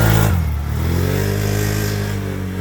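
A 2023 Can-Am Outlander XT850 ATV engine revs hard during a burnout, a loud, steady, close droning roar after a brief initial surge, holding high throughout.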